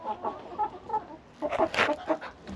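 Hens cluck close by during a farm egg collection, several short, fairly loud clucks in a brief burst with faint talk in the background.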